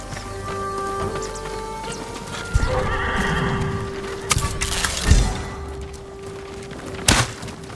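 Horses neigh and whinny with clip-clopping hooves at a samurai stable in the video game Ghost of Tsushima, several loud bursts standing out over steady background ambience.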